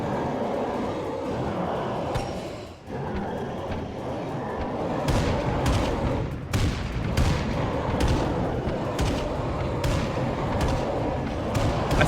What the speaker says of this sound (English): How about we try the mortar barrage?